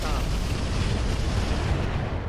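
Mech weapons firing a three-shot volley in the RogueTech BattleTech game, heard as a loud, dense low rumble of blasts that runs unbroken from start to finish with no voices.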